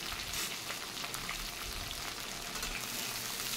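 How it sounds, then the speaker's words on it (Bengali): Potato and drumstick fry in oil in a wok, a steady close sizzle and crackle that stays even throughout, with no voices. "কড়াতে তেল দিয়ে একটু ফোড়ন দিয়ে আলু আর সজনে ডাঁটা ছেড়ে দিয়েছি"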